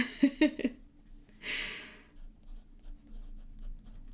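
A fountain pen laid down with bold black ink scratches across paper in short, soft strokes, close and faint, with a breathy swish in the middle and quiet pauses between marks.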